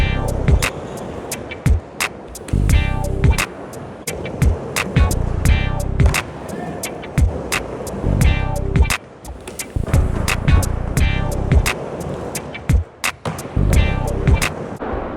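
Skateboard wheels roll loudly up and down a vert ramp, a steady rumbling ride broken by sharp clacks and knocks at the coping, close and continuous.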